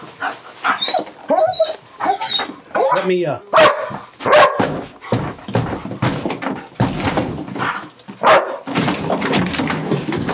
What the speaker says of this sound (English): Man, I see a dog.